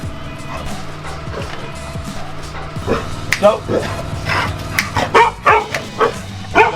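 A dog barks several times in short sharp bursts in an outdoor yard, mixed with a man's spoken commands and background noise.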